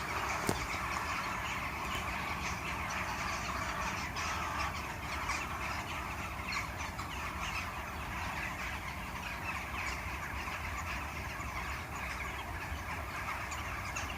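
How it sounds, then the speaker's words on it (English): Crows caw in a loud, continuous chorus after being stirred up at night in winter near a Nottingham fishing spot, with overlapping calls throughout over steady background noise. "A fox or something just disturbed all the crows."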